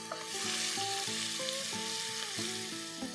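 Ginger-garlic paste sautéing in a hot pan with black pepper and cloves, a steady close broadband sizzle throughout with faint tonal hum, no voices.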